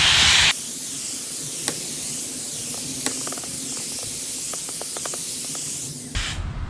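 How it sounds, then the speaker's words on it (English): A hose mister sprays a steady soft hiss of fine water mist over microgreens for several seconds, with a few light clicks and taps underneath, ending abruptly. "It's a nice soft spray."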